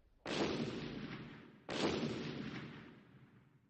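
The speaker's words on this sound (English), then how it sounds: "Then I heard an explosion." Two heavy blasts from excavation work beside a river, each a sharp, loud boom followed by a long rumbling decay, spaced about a second and a half apart with no voices.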